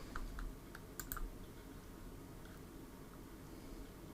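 Quick bursts of keys tapping on a computer keyboard, close and fairly quiet, cluster at the start and around one second. They then thin into a soft room hush with only a stray click.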